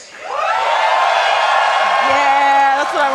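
Convention crowd at PAX East 2025 cheering and whooping for Team Jace, loud sustained shouts from many voices, with a voice rising over the noise near the end.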